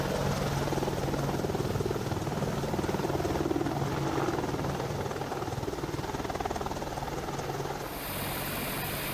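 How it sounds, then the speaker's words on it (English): A twin-engine AH-64 Apache attack helicopter drones steadily with a loud, continuous rotor and engine roar that holds even throughout, with no speech over it. "the twin-engine AH-64 Apache attack helicopter"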